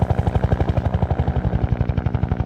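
A video game helicopter's rotor beats in a fast, steady low thumping pulse, loud and close, with a mechanical whine layered over it.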